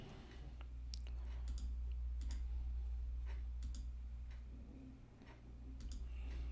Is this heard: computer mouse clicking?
yes